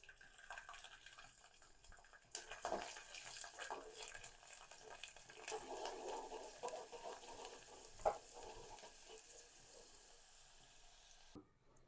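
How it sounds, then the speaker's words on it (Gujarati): Garlic cloves fry in hot oil for a Kathiyawadi whole-onion curry, giving a steady close sizzle with stirring scrapes throughout and one sharp clatter near the end before it cuts off. "હવે આપણે લસણની કળીને તળી લઈશું."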